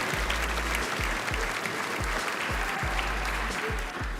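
Steady crowd applause at a basketball Hall of Fame induction ceremony, dense and continuous throughout with a repeating low thumping pulse underneath.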